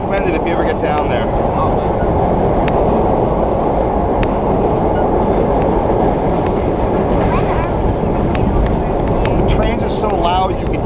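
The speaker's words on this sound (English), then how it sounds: "the sound of it going 65 miles an hour in a subway, you can hear it coming down and going under you" NYC subway express train, a vintage holiday nostalgia train between Rockefeller Center and 125th St, roaring underground at speed with a loud continuous rumble and rattling clatter throughout, voices faintly audible beneath.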